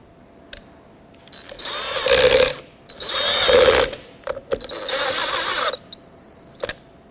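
Nuts being threaded on and tightened onto the blower motor studs of a 2007-2009 Saturn Aura, heard as three bursts of close ratcheting, whirring tool noise separated by brief pauses and small clicks.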